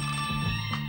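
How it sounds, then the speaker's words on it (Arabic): A telephone rings with a sustained, bright electronic tone whose lower notes shift slightly. It sounds close and fairly loud, with no voices. "هذا جرس الهاتف رن،"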